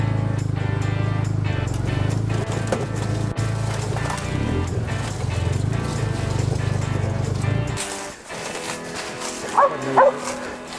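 Hunting dogs bark amid outdoor movement and rustling on a squirrel hunt in Newberry County, with repeated barks over a steady background before things quiet near the end.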